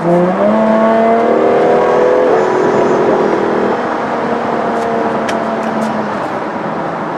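2015 Jaguar F-Type coupe accelerating hard in sport mode, loud engine note climbing through the revs, then easing off as the pitch falls and wind noise remains, with no speech.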